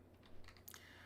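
A handful of quiet keystrokes on a computer keyboard tap in a short, irregular cluster, faint and close against a low background hum.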